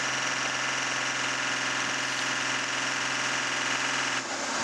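An Audi endurance race car pulls out of the pit garage during the 6 Hours of Spa-Francorchamps, its engine a constant, vibrating drone that holds at a steady level before a brief dip at the very end.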